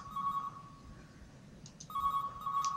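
A phone rings in the horror video game Calling, a steady electronic trill that breaks off briefly and then resumes, moderately loud over low ambient noise.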